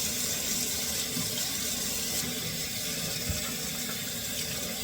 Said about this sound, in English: Just going to wash the whole cup.